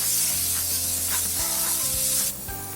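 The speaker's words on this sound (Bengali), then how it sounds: "পেঁয়াজটা একটু ভালো করে আবার নেড়ে দিচ্ছি।" Onions fry with a sprinkle of sugar in a pan, making a loud continuous sizzle and hiss while a utensil stirs them, with faint scraping and tonal hum beneath.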